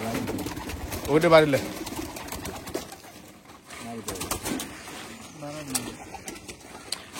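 Young flying pigeons coo softly in a newly set-up loft, their low murmurs coming in short bursts while people talk nearby.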